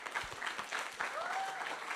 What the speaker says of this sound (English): And another round of applause for the presidential candidates.